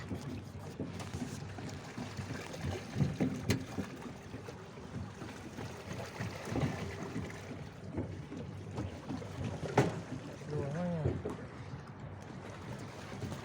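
Steady low rumble of a boat moving over water with wind gusts, and faint voices now and then.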